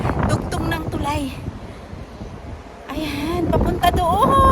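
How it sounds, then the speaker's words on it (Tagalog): Strong wind gusting across a bridge at Marina Bay Sands in Singapore, loud roaring buffets on the microphone that ease off briefly then return, with voices speaking over it. "Mahangin masyado."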